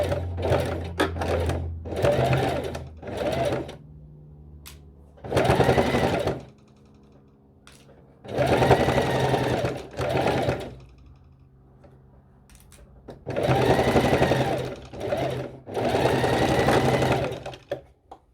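A sewing machine runs a top stitch in several bursts of steady, loud whirring stitching, each lasting a second or two and separated by short pauses.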